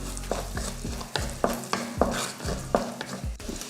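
Five or six small-cut white garlic cloves sauté in hot oil with a continuous sizzle, while a spoon scrapes and stirs the pan in repeated rhythmic strokes.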